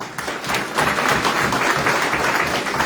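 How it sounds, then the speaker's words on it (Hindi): Loud, steady applause from an audience at a recognition ceremony fills the whole stretch, dense and close with no pause and no talk over it. "तो एक बार मैं अजय मान जी के लिए जोरदार ताली चाहूंगा"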